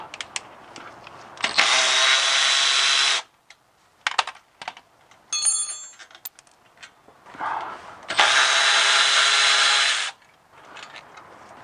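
Socket wrench loosening a bolt on the ZF 6HP19 transmission of an E90 BMW 335i, heard close as two sustained buzzing ratchet runs of about two seconds each, separated by scattered clicks and clanks.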